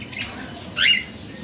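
Caged birds on a rooftop, including black Java sparrows, giving two short chirps, a faint one early and a louder squawk-like call shortly after, over low background hum.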